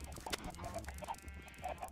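Chickens clucking in a Minecraft modpack world at a North Pole base, with several short, bright clucks and squawks repeating irregularly over a steady low background hum, fairly close and moderately loud, no talking.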